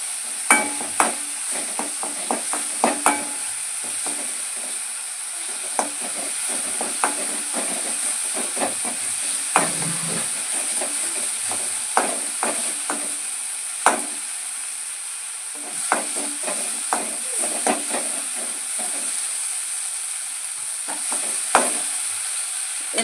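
Tempering for rasam, with pepper, cumin and asafoetida, sizzles in a small pan, a steady hissing fry broken by scattered pops and the clicks of stirring, close and continuous with no voices.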